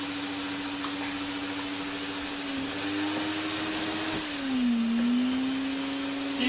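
An Electrolux Z2060 Electronic vacuum cleaner, restored, runs steadily with its hose on, a loud continuous motor drone with airy hiss whose pitch dips and wavers slightly partway through.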